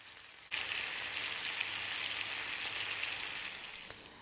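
Lamb chops fry in oil in a pan on a stovetop, a sudden loud sizzle starting abruptly and holding as a dense, steady crackling hiss that eases slightly toward the end.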